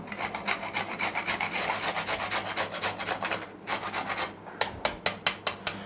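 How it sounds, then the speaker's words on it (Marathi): Nutmeg rasps against a grater above a sweet karanji filling, a quick run of close, scratchy strokes that slow into a few separate sharp scrapes at the end, with no talking. "त्यानंतर आपण हे जायफळ आहे ना ते यावरती आपण किसून घालूया"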